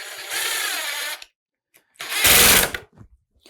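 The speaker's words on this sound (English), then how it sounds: "we heard the impact driver go into impact mode there" An impact driver sends pocket hole screws into wood in two close, loud bursts: a smooth whirring spin first, then a second run that breaks into rapid hammering impact pulses before stopping.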